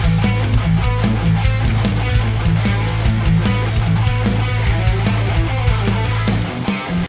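Bass guitar plays a repeating riff with a steady groove, loud and close, over a pulsing backing beat, ending abruptly.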